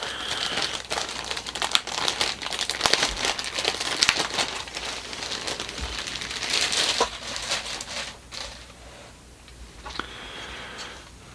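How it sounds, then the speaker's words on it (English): Crinkling plastic packaging as a Tamiya McLaren Senna model kit part is pulled free, a continuous close rustle and crackle with small ticks, fading quieter toward the end. "But I'll take this one out of the plastic."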